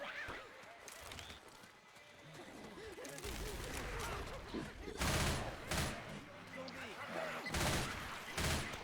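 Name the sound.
gunfire in the video game Left 4 Dead 2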